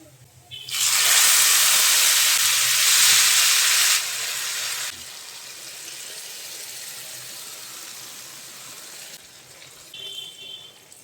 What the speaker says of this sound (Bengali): এখন পেঁপের ডালটা বাগার দিয়ে দেব।